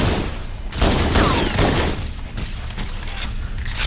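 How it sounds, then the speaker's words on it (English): A dropship in Halo CE Anniversary fires on the player: dense, overlapping bursts of weapon fire and impacts crackle loudly throughout, with sharp booms mixed into the barrage. "If the ship could stop shooting me, that would be awesome."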